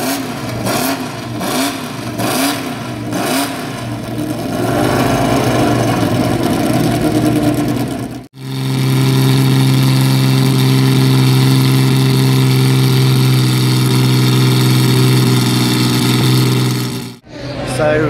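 Racing cars at the British Grand Prix whoosh past one after another with quick rising and falling engine notes, then a loud, sustained engine roar screams by close up.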